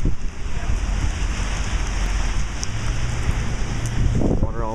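Heavy rain hisses as a dense, constant roar outdoors, with wind buffeting the microphone and a faint low rumble throughout.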